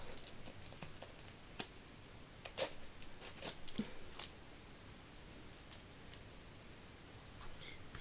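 Scissors snipping double-sided tape while making a photo album spine: a handful of faint, sharp irregular cuts with pauses between, in a quiet room.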